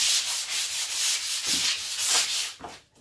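Sandpaper rubs by hand over pine timber on an antique bookcase, a close, rhythmic scratchy swish repeating in quick back-and-forth strokes, with no talking.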